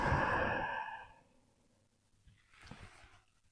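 An exhale during a Vinyasa yoga class, a long breathy sigh at close range that fades over about a second, followed by a softer second breath.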